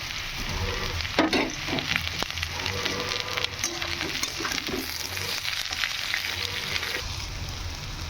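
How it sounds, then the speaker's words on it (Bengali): Chowmein vegetables, beans, capsicum, chilli and onion, fry in a hot pan, a dense, continuous sizzle with scattered crackles and the scrape of stirring throughout. "এখানে আমরা ভালো করে আনাজগুলো সব ভেজে নিয়েছি"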